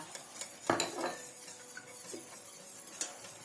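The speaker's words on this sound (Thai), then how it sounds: "คนส่วนผสมให้เข้ากัน" A spoon stirring a cornstarch mixture in a bowl, with a few clinks and scrapes against the bowl and one louder knock near the start, quiet and close.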